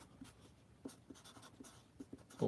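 Marker tip squeaking and tapping across paper standing in for Bristol board, a quiet run of short scratchy strokes with small pauses, ending in a louder closing stroke.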